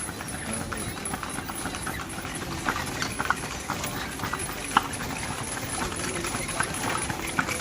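A horse pulls a carriage through the streets of Vigan, its hooves clip-clopping in a steady, moderately close rhythm under ongoing conversation and street noise.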